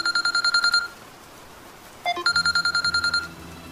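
A telephone rings in a Nepali drama scene, giving two bursts of rapid, bright electronic trilling separated by a short quiet gap.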